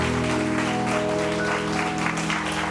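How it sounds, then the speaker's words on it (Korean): A church congregation clapping together during a worship service, steady applause over sustained organ or keyboard tones that hold underneath throughout. "서로 축복하며 격려하며 박수하겠습니다."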